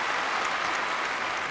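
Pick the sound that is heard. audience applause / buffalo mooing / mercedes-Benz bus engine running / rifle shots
audience applause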